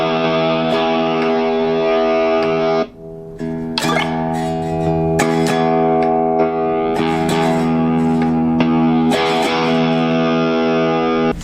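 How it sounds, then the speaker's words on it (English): Distorted electric tones from a smart guitar played through its built-in amp models and effects, sustained chords ringing loud and steady with a brief drop in the middle, then fresh strums. "There's also a bunch of different kinds of amps and tones."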